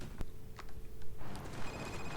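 A telephone rings in a bedroom scene from the TV drama Fargo, a short bright bell trill heard through background noise and faint room sound.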